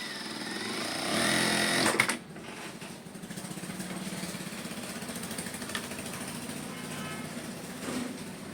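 A sewing machine stitches a shirt collar, a close rapid mechanical whir that runs loud for a couple of seconds, then continues as a softer steady chatter of stitching.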